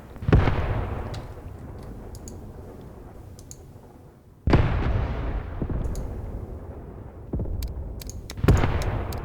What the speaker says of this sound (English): by now the mortars should be landing and causing all sorts of morale problems